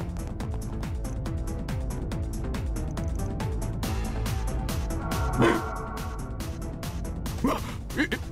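A dog in the Kai no Kiseki video game yips and barks in a rapid series of short, close calls over busy background music, with a few louder bursts toward the end.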